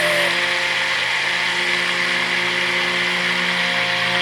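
An immersion blender runs steadily in a pot of deer fat soap batter, a loud, close, continuous electric whine with a dense motor buzz and no pause.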